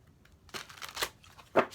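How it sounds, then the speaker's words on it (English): A deck of tarot cards is shuffled in a few brisk, riffling bursts, close and fairly soft, ending with a sharper snap as the cards come together. "Last shuffle."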